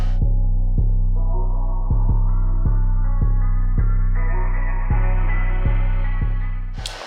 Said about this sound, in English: Let's get these things welded.